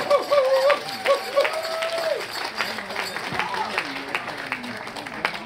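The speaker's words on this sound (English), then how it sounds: "Round of applause for Valerie King." Steady applause from a crowd at a powwow fills the space, dense clapping continuing throughout with a few voices and cheers mixed in.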